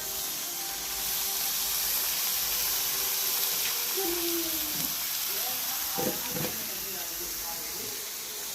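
Sliced potato wafers fry in hot oil with a steady, loud sizzling hiss that stays even throughout, while a few faint stirring or bubbling sounds rise now and then.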